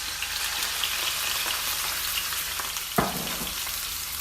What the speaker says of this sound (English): I'm just gonna be lightly frying this for about 2 minutes